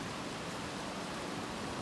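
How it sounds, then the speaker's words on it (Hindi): Heavy rain falls in a dense, steady roar with no letup, close and loud, filling the whole clip without any voices. "बहुत तेज़ बारिश हो रही है एकदम से"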